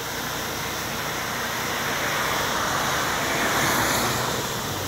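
Water from a burst water main near a reservoir rushes in a loud, steady roar, a broad unbroken outdoor gush with no talk over it.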